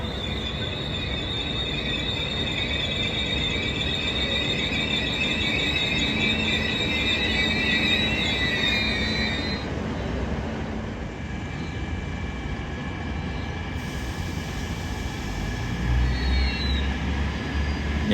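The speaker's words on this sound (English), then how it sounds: "as this J-set pulls into platform 2" A J-set train rolls into a station platform at night in Hamilton, New South Wales, with a loud rumble, high wheel squeals ringing for the first half before fading into a low, continuous drone.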